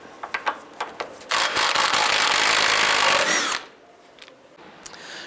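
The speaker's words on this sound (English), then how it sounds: "Using a 21mm socket, remove this nut." A power tool with a 21mm socket whirs steadily for a couple of seconds removing a nut on a 2005 Jeep Liberty's tie rod, framed by brief metallic clicks and taps before and after, close by with no talking.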